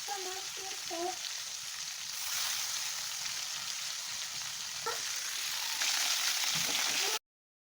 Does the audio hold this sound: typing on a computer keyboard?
no